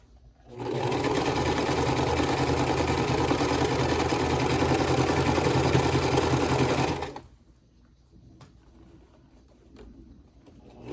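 A sewing machine stitches a quilt block for a bee-themed quilt. Its steady, loud, close motor whir runs for about six seconds, then cuts off into near silence, with no talk.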